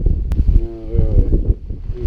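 Strong wind gusting across a mountain trail in Dolly Sods, West Virginia, buffeting the microphone in loud, uneven low rumbles, with a faint tonal whistle midway.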